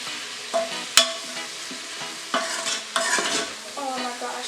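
Green seasoning blend is stirred in an instant pot for Jamaican brown stewed fish, with a few close spoon scrapes and clinks against the pot over a soft sizzle, all in short bursts.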